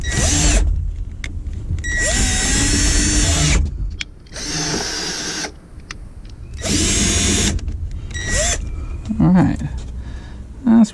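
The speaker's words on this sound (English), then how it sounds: "I'll drill a hole in the plastic" A power drill whines in several bursts drilling a hole in plastic, separated by pauses where someone talks; the drilling is close, loud and high-pitched.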